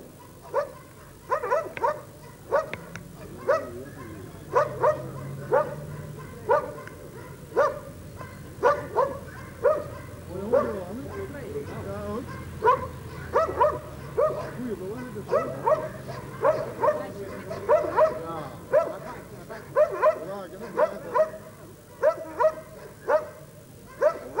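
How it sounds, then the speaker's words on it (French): A dog barks repeatedly in short bursts whenever the judge moves at an international dog trial in Tournai, some quick and clustered, continuing throughout at moderate distance, with occasional whines and faint talk in the background. "Vous avez remarqué que dès que le juge est en mouvement, le chien aboie."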